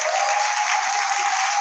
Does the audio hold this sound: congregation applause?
yes